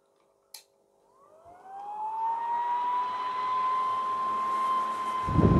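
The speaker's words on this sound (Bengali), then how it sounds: "আমি পাখাটা চালিয়ে দেখাই আপনাদের।" A ceiling fan powered by a square-wave mini inverter is switched on with a sharp click, then a whirring electrical hum rises in pitch and settles into a steady drone as the blades spin up, with a clatter at the end.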